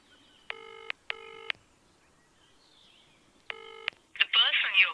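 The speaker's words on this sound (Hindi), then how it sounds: "फोन करता हूं उसे।" Three bursts of touch-tone telephone dialing beeps, two quick ones followed by a pause and a third, close and clear, with a short stretch of higher-pitched electronic ringing or chirping at the end.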